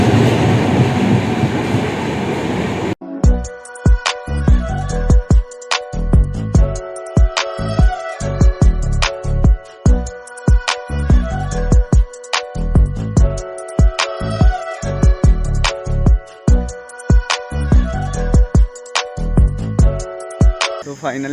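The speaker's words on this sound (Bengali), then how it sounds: "আর এটা হচ্ছে স্লিপার কোচ আমাদের ট্রেনের" Moving train heard from inside a sleeper coach, with loud close rhythmic clickety-clack of the wheels over rail joints and a rumbling undertone that runs throughout.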